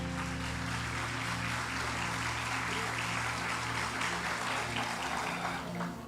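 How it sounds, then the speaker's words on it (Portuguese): Church congregation applauding during a sermon, a steady, dense wash of clapping from a large crowd that holds evenly throughout over a low hum from the hall's sound system. "Você pode aplaudir ao Senhor Jesus?"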